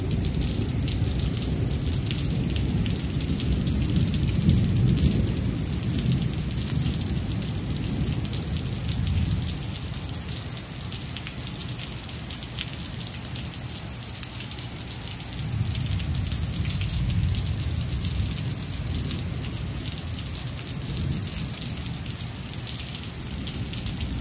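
Steady rain falls onto surfaces as a dense, continuous hiss. Low rumbling rises and fades beneath it now and then, like distant thunder.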